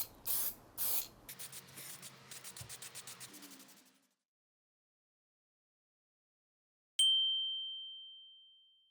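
A spray paint can laying down a glossy coat gives two loud hissing bursts, then a run of quicker, fading puffs. After a few seconds of silence, a single bright metallic ding rings out and slowly decays.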